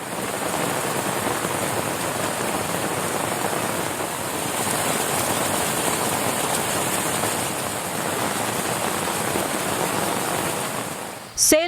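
Heavy summer rain pouring for over an hour on a town in Nerkuppai, Tamil Nadu, flooding roads and drains: a dense, steady, loud hiss of the downpour with no let-up, ending in a brief sharp clatter.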